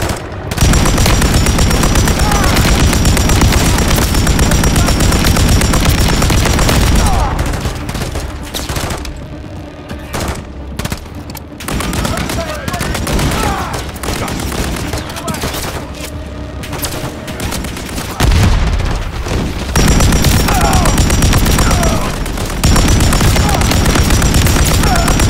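Heavy automatic gunfire rattles through a Call of Duty: Modern Warfare 3 firefight, loud sustained bursts with booming impacts, easing into a quieter scattered stretch midway before the full barrage returns.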